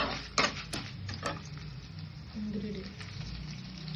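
Dal frying in a pan for Chettinad ginger chutney, a light crackling sizzle with a few sharp ticks and pops early on and a soft steady fizz continuing, close by and fairly quiet.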